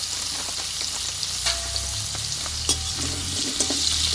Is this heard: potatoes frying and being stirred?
yes